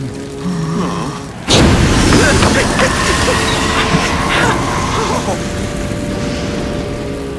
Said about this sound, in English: I swallow fire now. Breathe out big, big flame.